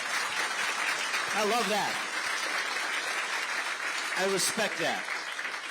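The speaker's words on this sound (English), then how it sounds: "Let's give Grace a round of applause" An audience at a political event claps steadily throughout, and someone speaks briefly over the applause twice.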